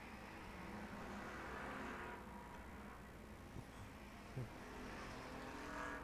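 Ford Bomber class race cars roar down the back straightaway at Arizona Speedway, a distant, steady engine drone with a faint passing swell and a brief knock, no voices.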